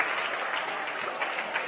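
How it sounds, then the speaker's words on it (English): Crowd applause at a bouldering championship final, a steady dense wash of clapping from a large audience, sustained and fairly loud throughout with no pauses. "You can hear the crowd giving them a huge applause."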